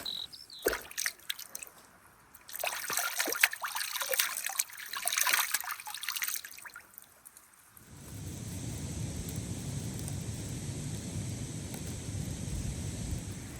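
Highland stream water in the Scottish Highlands, splashing and clattering up close as a bottle is filled and someone washes, then settling into a steady, even rushing flow for the second half with no talk.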